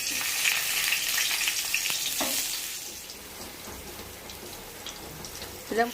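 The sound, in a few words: dried red chilies frying in a pan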